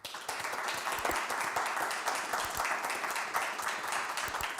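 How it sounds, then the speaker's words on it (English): Audience applause for a startup founder at a live pitch feedback show, a full steady roar of clapping with no pause, close and even in level. "Round of applause to the first founder on this edition of the Feedback Loop."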